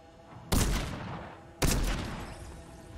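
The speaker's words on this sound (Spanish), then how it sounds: "Veo gente disparando aquí." Two sharp bursts of gunfire in a shooter video game, each a loud crack followed by a long decaying rumble, about a second apart, with no talking.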